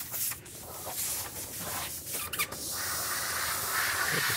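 A paint spray gun hisses steadily in short and longer bursts while being flushed clean with a splash of paint between color tints, close and fairly loud, with light handling rustles.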